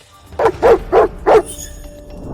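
A dog barks four times in a quick, even series, loud and close, then falls quiet.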